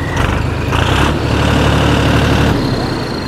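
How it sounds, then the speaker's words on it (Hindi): A tractor engine fitted with a new battery, loud and close, churning over then settling into a steady, heavy low rumble that holds throughout with slight shifts in tone and no talk over it. "नई बैटरी लेके आए भाई, इससे स्टार्ट करें अपना ट्रैक्टर"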